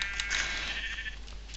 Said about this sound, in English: Oh, these sheep are tough and fast.